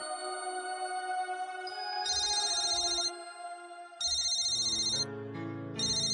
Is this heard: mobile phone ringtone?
yes